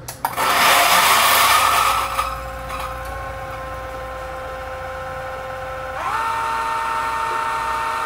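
Option-O Lagom 01 coffee grinder grinding beans: a loud, gritty crunching burst that settles after a couple of seconds into a steady motor whine, then steps up slightly in pitch and level near the end.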